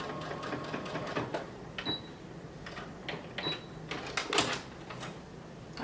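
A sewing machine bastes the fly of a pair of boyfriend jeans in short bursts of rattling stitches broken by clicks and clacks, close by, with no voices.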